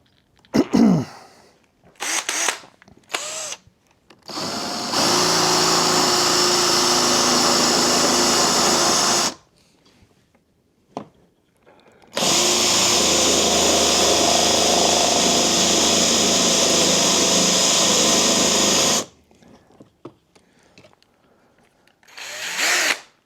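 A power drill boring a bolt hole on a Jaguar XK8 ECU runs in two sustained, loud bursts of roughly four and seven seconds, separated by short clicks and handling noises in a cramped workspace.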